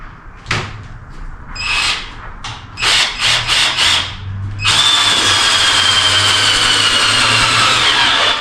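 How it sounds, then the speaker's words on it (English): A power driver sinks self-tapping screws into the timber framing of a micro cabin, a few short whirring bursts with brief pauses, then one long sustained high-pitched drive, loud and close. "These are self-tapping screws, so it makes it real easy to drive."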